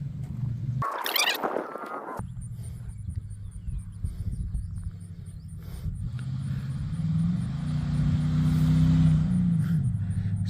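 LS-swapped OBS Ford truck on its first street drive, the V8 rumbling low and steady, then swelling louder as it pulls away; a brief sharp noise burst near the start.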